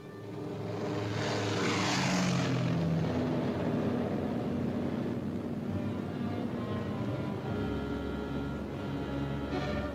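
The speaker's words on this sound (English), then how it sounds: "But first Morgan buzzes the field, cuts the grass with the giant fortress." B-17 Flying Fortress bomber Memphis Belle making a low pass over a WWII airfield: a loud, sustained multi-engine propeller roar that swells as the aircraft sweeps close overhead, then holds steady before easing slightly.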